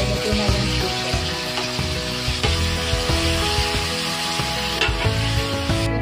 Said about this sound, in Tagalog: Halo pa natin yung kalabasa.